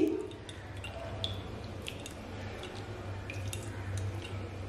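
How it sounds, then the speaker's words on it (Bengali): Water drains and drips from washed maida flour dough in a bowl. Soft, close, irregular drips and light trickling sit over a low, steady background hum. "আর বেশি ধোবো না, এই ভালো করে জলটা ঝরিয়ে নিচ্ছি।"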